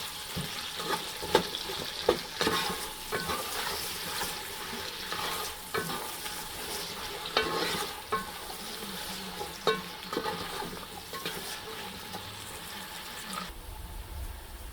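Chopped onions browning in a pan for beef curry, with steady sizzling and irregular scraping knocks of a spoon stirring, close and alone, plus brief faint water sounds.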